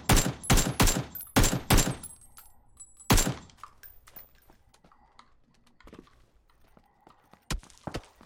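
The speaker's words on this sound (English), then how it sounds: "Getting shot from the right." Bursts of rapid gunfire from a firefight in a city battle, loud clustered volleys in the opening seconds, then a lone sharp shot later among scattered quieter clicks and thumps.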